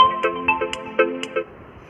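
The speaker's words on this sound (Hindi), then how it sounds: "फोन आ रहा है" Phone ringtone playing during an online maths class, a loud repeating electronic melody of short bright notes that stops abruptly after about a second and a half, with no talk over it.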